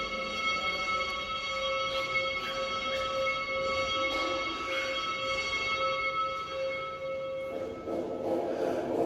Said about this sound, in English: Well, you can hear the bell. The ceremony will begin soon.